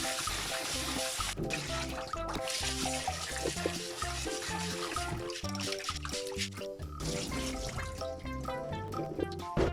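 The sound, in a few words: washing rice in water, Tsugaru Roman rice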